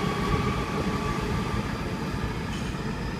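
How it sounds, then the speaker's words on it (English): A Sydney Trains A-set Waratah electric train pulls away from a platform at Blacktown, a steady rumbling roar with rising motor hum and rolling wheel noise, loud and near throughout. "A10's now departing platform 7."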